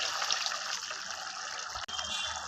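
Water from a pressure cooker pours into a mutton keema and brinjal curry, a quiet steady trickling splash that runs without pause and has a brief break near the end.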